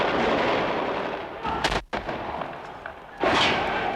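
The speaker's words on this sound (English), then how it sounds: "Then there was gunfire." Gunfire during the 1997 Albanian unrest, sharp loud cracks fired close by among a noisy crowd, with a few distinct shots in quick succession.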